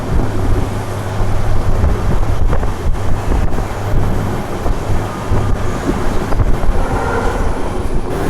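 A long-distance express train from Kolkata rolls into Guwahati station, a loud, continuous rumble of carriages with heavy wind buffeting the microphone and occasional clanks, no talking.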